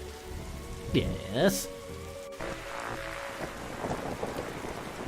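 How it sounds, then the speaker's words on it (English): Rain falls steadily throughout a stormy night scene in the video game The Darkside Detective, with a low rumble of thunder, game sound effects early on, and brief speech. "That storm looks like it's getting nastier."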